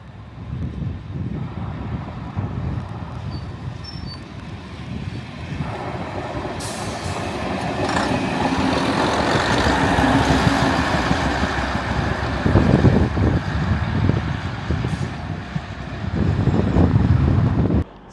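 A Class 121 bubble car diesel train running near Chester, with a rumbling engine and rolling noise building gradually, heavily buffeted by wind on the microphone.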